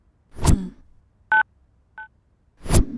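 A mobile phone gives short, crisp dialing beeps, two tones close together in the middle, set between louder muffled thumps at the start and end.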